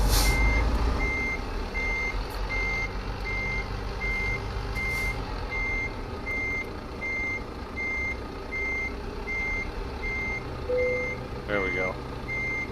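A truck reversing in Euro Truck Simulator 2, its backup alarm beeping in a steady regular rhythm over a low idling engine rumble, with someone speaking briefly near the end.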